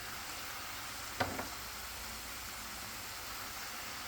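Chopped garlic sizzles in a pan with mushrooms for a chicken fricassee, a faint steady frying hiss with a brief clatter as it goes in, no talking.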